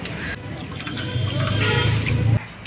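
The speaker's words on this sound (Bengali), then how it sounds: "ভালো জলে ধুয়ে দেব" Dried fish being rinsed in water in a kitchen, with steady splashing and trickling close by, swelling in the middle and cutting off near the end.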